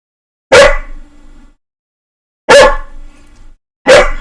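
A dog barks three times close by, sharp loud yaps spaced a second or two apart, with clear silence between them.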